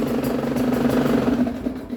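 A 2019 GasGas motorcycle engine runs steadily after warming up, a close, even idle with a low throbbing hum and no speech.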